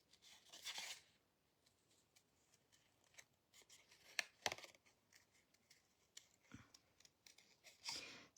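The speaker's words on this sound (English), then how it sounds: "I'll just cut away that extra piece just to make it a little bit easier to maneuver and get my scissors in there." Scissors snipping through cardstock while trimming a Christmas card, a few short crisp cuts spaced apart with quiet gaps between, close and fairly faint.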